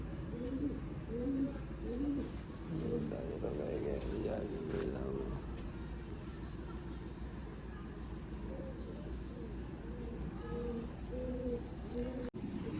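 Repeated soft pigeon coos, low and throaty, recur throughout over a steady background hum, with occasional faint voices nearby.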